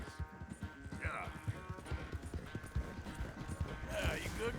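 Horse hooves clip-clop at a steady walking rhythm in the video game Red Dead Redemption 2, fairly quiet, with voices talking over them.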